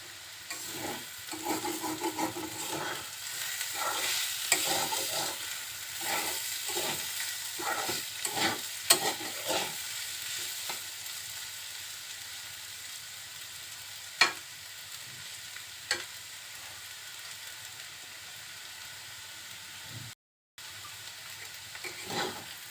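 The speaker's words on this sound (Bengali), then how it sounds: "খুব অল্প সময়ের জন্য ভাজবো আলুটা" Boiled potatoes frying briefly in a pan crackle with a steady sizzle, with frequent spatula scrapes and knocks at first, then quieter frying and occasional taps, and a brief dropout near the end.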